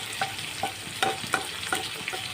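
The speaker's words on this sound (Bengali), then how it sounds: "এই তেলের মধ্যে আমি রসুন দিয়ে দেবো, রসুনটা ভাজা হতে দেবো।" Chopped garlic fries in hot oil for leafy greens, a close steady sizzle punctuated by rhythmic stirring scrapes of a spatula against the pan, with no speech.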